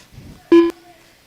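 A telephone gives a single short, loud electronic beep lasting about a fifth of a second, close and clear, against a quiet background with faint voices around it.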